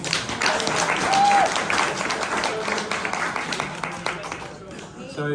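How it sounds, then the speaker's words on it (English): A pub audience at a local politics event applauds warmly, a steady close round of clapping with some whistles and crowd voices mixed in, easing off toward the end. "Another round of applause, please."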